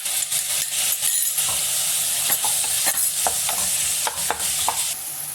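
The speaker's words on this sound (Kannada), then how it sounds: "ಇವಾಗ 1-2 ಟೊಮೆಟೊ ಹಾಕ್ಕೊಳ್ಳಿ ಇದಕ್ಕೆ." Tomatoes frying with ginger garlic paste in a pan for paneer masala, a steady close sizzle broken by repeated scraping stirs of the spatula, with no voices.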